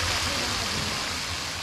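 A theme park water fountain splashes in a steady, dense rush of falling water, loud and close, with no break throughout.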